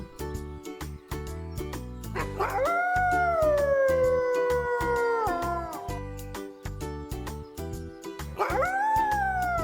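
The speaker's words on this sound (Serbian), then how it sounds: "Vuk živi sa svojom porodicom u čoporu." A wolf gives two long, drawn-out howls, the first rising and slowly falling over several seconds and the second starting near the end, over a steady rhythmic backing.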